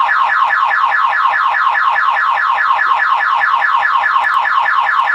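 A loud Toyota MR2 car alarm wailing nonstop, its electronic tone sweeping up and down in a fast repeating cycle.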